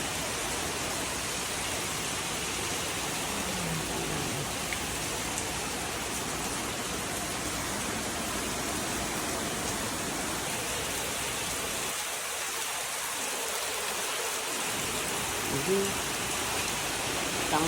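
Heavy rain and wind lash an outdoor setting in a steady, dense roar of falling water and gusts, continuous and fairly loud with only a brief lull near the end, and no clear talk over it.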